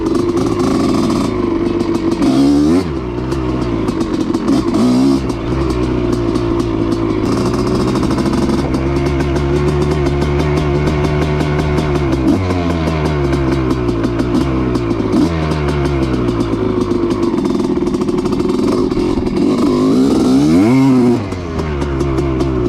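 A 1985 Honda CR250 dirt bike runs rich during warm-up and spits from the joint between pipe and silencer, its engine blipping and revving repeatedly, loud and close, rising and falling through the idle.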